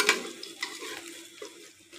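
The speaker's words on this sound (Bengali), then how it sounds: "ফোড়নটা ফুটে উঠেছে।" Whole spices splutter in hot oil for tempering, soft crackling pops and a light sizzle with a few faint utensil scrapes against the pan, quiet and close.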